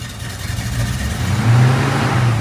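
A 1973 AMC Hornet engine revving after a cold start, a close, loud steady mid-pitched drone that rises slightly in pitch and volume partway through, with no talking.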